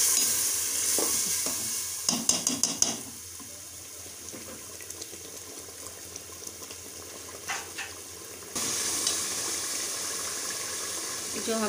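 Masala cooking in a pan with water added for biryani makes a soft, steady simmering hiss, broken by a few brief clinks and stirring knocks, with a louder sizzle returning near the end.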